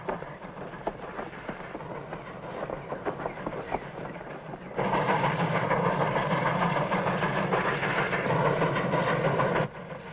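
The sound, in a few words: steam train running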